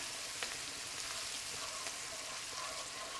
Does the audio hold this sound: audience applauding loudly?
no